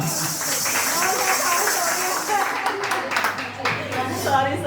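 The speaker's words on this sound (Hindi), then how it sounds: "जो सो रहे हैं तालियां बजा दे एक बार।" Audience at a church worship service clapping steadily throughout, a dense crowd patter that stays fairly loud, with voices talking over it.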